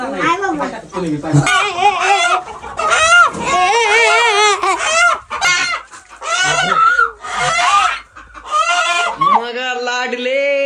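A rooster squawks and clucks in agitated bursts as it is being caught, close by, mixed with people talking and shouting over it.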